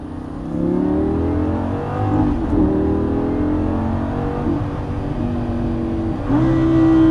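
A Lamborghini engine revs hard at close range on the Grand Sambuc race circuit, with a loud, continuous roar whose pitch climbs and falls through shifts and rises again near the end.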